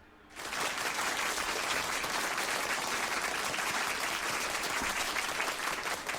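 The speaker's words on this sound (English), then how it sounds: "Clap it up for 280" Crowd applause from the wrestling video game WWE 2K25 bursts in abruptly and holds as a dense, even roar of clapping from a large arena audience, loud and continuous with no voices on top.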